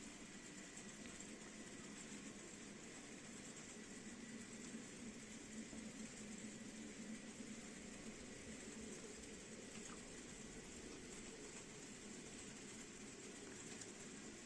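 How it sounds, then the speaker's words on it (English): A model manifest freight train runs on an operations-focused model railway layout, giving a faint, steady rolling rumble and hum that continues evenly throughout without any voices. "Here we have the second manifest train coming."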